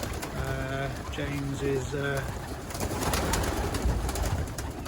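Young racing pigeons coo in a loft in a steady, close chorus of low, rhythmic calls, with someone speaking over them and scraping and shuffling noises building toward the end.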